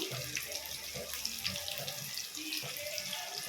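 Tender curry leaves fry in a pan of hot oil, giving a continuous spattering sizzle with light crackles. The sound stays fairly close and even throughout.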